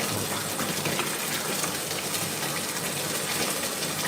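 Water gushes steadily over a foot and hand as soap is rinsed off, a continuous, close, fairly loud splashing flow with no pauses and no voices.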